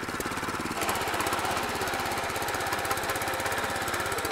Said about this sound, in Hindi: और ये जुताई कर रहा है